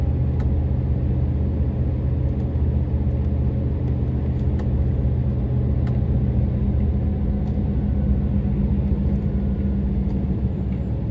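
A queue of cars and trucks sits idling in traffic in Italy, a steady low engine rumble droning on without pause, close and continuous with no talking.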